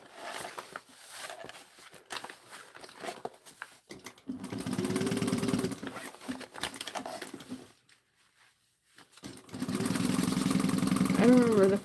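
A sewing machine runs in two sustained bursts while basting a backpack seam, close and steady with a buzzing whir, and a person talks over the stitching and in the quiet stretch between the bursts.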